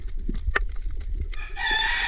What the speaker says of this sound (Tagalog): Ops, manok.